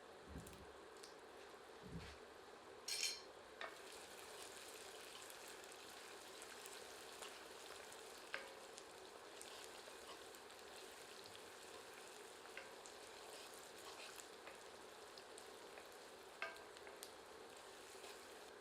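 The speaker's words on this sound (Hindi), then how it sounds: "आंच पर तब तक भूनते हैं जब तक कि प्याज सुनहरी नहीं हो जाती।" Onion frying in a pan with whole red chillies over medium heat makes a continuous soft sizzle, with a few stirring clinks and scrapes early on and no speech.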